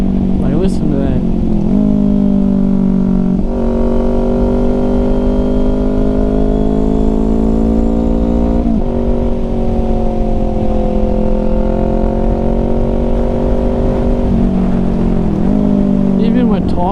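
Kawasaki Ninja 400 or Z400 engine heard while riding on back roads, a loud, steady droning hum with gear shifts changing the pitch a few times, wind rush throughout and a rider's voice over the top.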